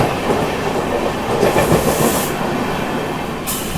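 An Amrit Bharat Express train rolls along the rails in Odisha near Bhadrak, giving a steady, close, loud rumble with a rhythmic clickety-clack of wheels over the joints and no voices.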